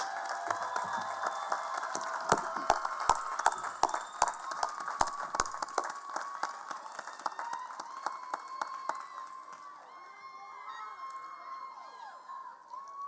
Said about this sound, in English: Please let us have another round of applause for our master's degree students